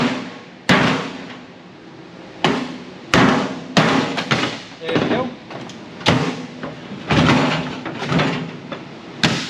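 Loud, irregular hammer blows strike metal and hard surfaces while scrapping microwaves, each impact followed by a short rattling decay, close by.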